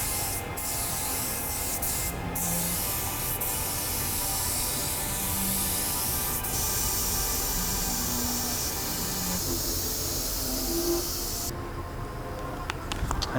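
Second coat of spray paint going onto a car: a steady airy hiss from the spray gun runs throughout, with a few short clicks and pauses in the background.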